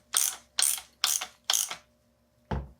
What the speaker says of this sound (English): Then we're going to take our ratchet, screw it down as much as we can.